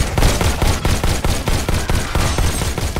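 Flying robots fire rocket launchers in the VR game Robo Recall, a loud, close barrage of rapid repeated blasts in a fast, regular rhythm that carries on without a pause.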